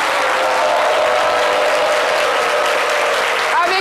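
Loud, sustained applause from a crowd, dense clapping that holds steady throughout.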